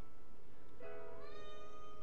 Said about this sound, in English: You can hear her meowing in the background.